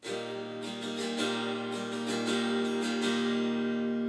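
An acoustic guitar tuned down a half step rings out an E-shape chord, strummed repeatedly in a steady pattern with sustained, resonant tones, loud and close.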